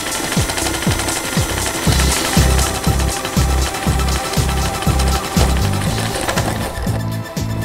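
A sewing machine stitching a bag handle in a reintegration-centre workshop, its needle thumping in a fast, steady rhythm of low chugging bursts that runs close and loud throughout, with no talking.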